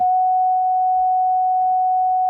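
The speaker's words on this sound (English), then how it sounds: "Okay, great, we have a sine wave." A pure, steady sine wave tone from wavetable synthesis in TouchDesigner holds at one constant pitch, loud and unbroken for the whole stretch.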